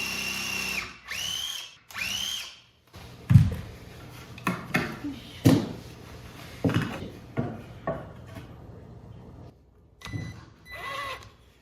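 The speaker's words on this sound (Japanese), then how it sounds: "取り付ける位置に墨付けをして、サラトレキリで下穴を開けます。" A countersink drill bit bores a pilot hole into a wooden board for an under-stair storage box, giving several short whirring bursts with hard thumps. A voice talks at the start, and the drilling continues alone afterward.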